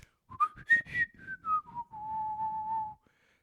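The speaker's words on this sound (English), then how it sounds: "Should I keep whistling through the whole episode?" A person whistles a short tune alone, starting with a few quick rising notes and gliding down into a long, steady held tone that ends abruptly.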